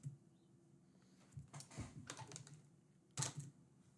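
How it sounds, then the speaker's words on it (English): Keys clack on a Japanese Toshiba typewriter in a few quiet, irregular bursts of strikes separated by short pauses, close by and with no voices. "that is the Japanese Toshiba typewriter"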